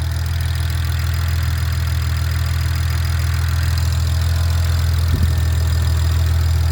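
A 2008 BMW E90 335i with 200k miles and a faulty radiator idles steadily on its first start after a turbo upgrade, producing a loud, close, even engine hum with no revving.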